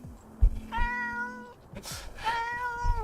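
A cat cries in a string of drawn-out, wavering meows, one long call early, another at the midpoint and a third near the end, close and fairly loud, with soft thumps and rustling underneath.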